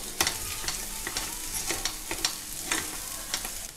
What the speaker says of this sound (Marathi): पाव छोटा चमचा हळद मिक्स करूया आणि मसाले परतून घेऊया।